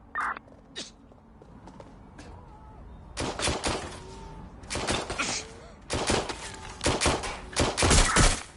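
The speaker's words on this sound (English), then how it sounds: "Gunfire!" Gunfire erupts in bursts in the video game Watch Dogs: Legion, sharp cracks and rapid volleys growing denser and louder toward the end, preceded by quieter scattered sounds.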